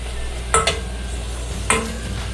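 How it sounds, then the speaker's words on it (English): Onions sautéing in aromatic oil in a pan, a soft steady sizzle with two brief stirring scrapes, no talking. "Now the onions are sauteed well."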